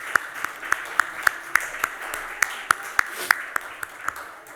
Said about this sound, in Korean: 띠또 나올 때 박수로 환영하겠습니다